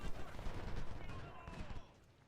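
Musket volleys from several infantry units ring out in Ultimate General: Civil War, a burst of overlapping crackling shots that thins and fades away after about two seconds.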